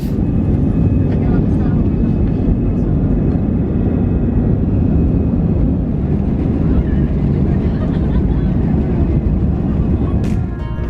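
Airplane cabin climbing after takeoff from Zagreb, bound for Milan: a loud, steady low engine and airflow roar fills the whole span without letting up.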